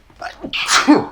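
A single sharp sneeze, preceded by a quick inhale, close and clear against quiet surroundings.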